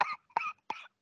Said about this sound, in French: Ah, t'es obligé de tousser.